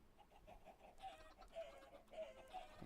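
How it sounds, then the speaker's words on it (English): Chickens in Minecraft cluck and squawk as they die, in a few short, quiet, repeated calls spaced about half a second apart over low background noise. "That's the chicken dying."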